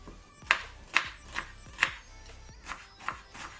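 A kitchen knife chops a dry onion for karnıyarık on a cutting board, with about eight sharp, evenly spaced knocks up close and no talking.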